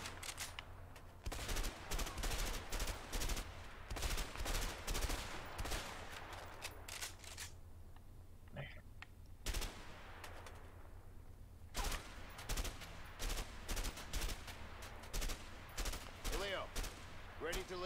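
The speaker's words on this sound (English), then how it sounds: "Let's shoot at them." Repeated bursts of gunfire from guns in the video game A Way Out, sharp shots in clusters and rapid volleys spread across the stretch with short pauses, loud and close over steady game ambience.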